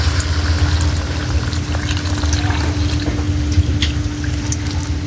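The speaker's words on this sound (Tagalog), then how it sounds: "So, lagyan na po natin ng Tubig." Water poured into a cooking pot, a steady loud rushing and bubbling hiss that runs unbroken for several seconds, with no voices.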